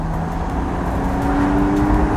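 A 2006 Porsche 911 Carrera 4S Cabriolet on the move, its engine giving a steady, moderately loud drone with a faint tonal hum rising slightly, continuous throughout with no talk.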